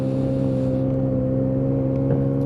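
A Lexmoto Echo+ motorcycle engine drones steadily while riding, a loud, close, even hum with wind rush and no change in pitch.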